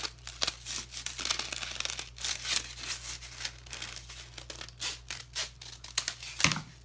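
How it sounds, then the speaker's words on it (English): Scissors snip out four paper hearts for a large paper flower craft, a close, steady run of quick crisp cuts with light paper rustling between them. "you're just going to take it and you're just going to cut out 4 hearts"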